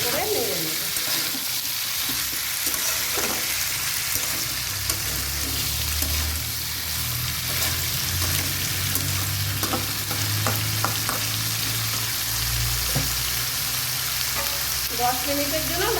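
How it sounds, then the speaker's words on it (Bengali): Potatoes and green beans fry in a pan while being stirred, a loud continuous sizzle with scraping stirs and occasional clinks running throughout, close and unbroken. "ভালো করে নেড়ে নেব।"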